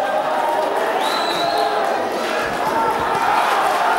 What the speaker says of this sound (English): This is a boxing crowd,